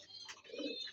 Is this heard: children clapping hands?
no